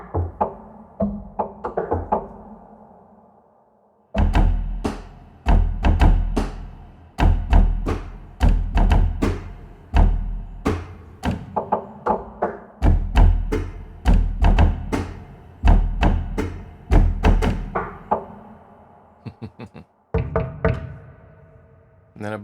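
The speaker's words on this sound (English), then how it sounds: "And then you've got some knocks here in the middle." Knock sounds from the Memories Piano sample library, dry wooden-sounding raps played in quick, irregular runs and clusters, close and crisp with short decays and brief gaps between phrases.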